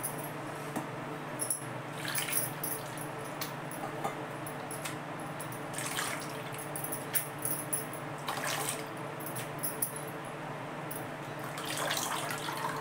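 Peeled sweet potatoes dropped into a bowl of water, soft splashes and sloshing with a few clinks, faint and intermittent against a quiet kitchen background.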